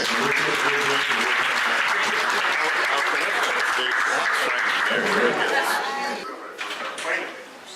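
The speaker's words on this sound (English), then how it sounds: "Once again, please give me a round of applause." An audience at a gala night for junior tech champions claps steadily in a large room, sustained applause mixed with chatter and scattered voices, tapering off toward the end.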